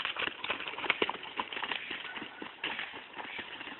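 Horse hooves clip-clop steadily in a small training pen, with a quick, irregular rhythm of close, moderately loud thuds on soft ground and faint background noise.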